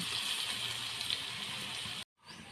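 Chopped onions fry in hot oil until reddish for a chicken curry, giving a close, steady hissing sizzle that cuts out abruptly, then returns softly.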